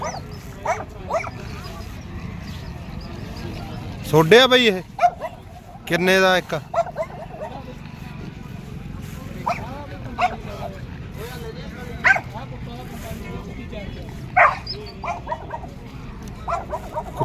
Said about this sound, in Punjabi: ਕੁੱਤੇ ਵੀ ਆਏ ਹੋਏ ਆ ਮੰਡੀ ਦੇ ਵਿੱਚ